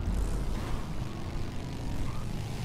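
A helicopter flies in a video game, producing a dense, continuous rotor-and-engine rumble that is loud and close, with no voices over it.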